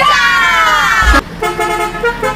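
A red truck's telolet horn plays a bright, harmonized musical toot that holds steady, then cuts off at a thump; shorter tonal blasts and engine noise follow close by.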